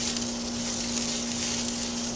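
Food for bison burgers sizzling and frying on a grill as it gets stirred, a dense, steady hiss with a low constant hum beneath, close and without talk.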